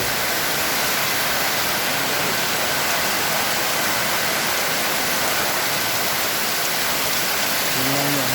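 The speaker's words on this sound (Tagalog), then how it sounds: "malakas din ang ulan at hangin parang bagyo" Dense, steady roar of heavy, storm-like rain with gusting wind in Dingle, Iloilo, Philippines, loud and continuous throughout with no pauses.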